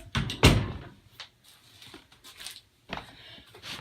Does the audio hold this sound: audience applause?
no